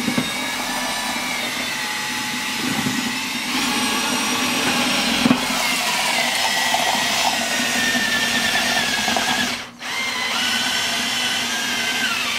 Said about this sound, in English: we're just going to take this mixer attachment onto the end of a drill and get that